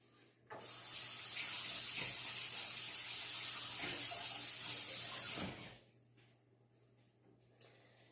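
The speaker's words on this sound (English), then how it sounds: "I'm going to go wash my hands." Tap water runs steadily into a kitchen sink during hand washing, starting abruptly, holding a loud broadband rush for about five seconds, then cutting off to quiet room tone.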